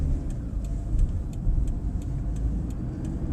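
A 2011 Toyota Prius hybrid pulling away under acceleration, heard from inside the cabin as a steady low engine and road hum with faint regular ticking, and no voices.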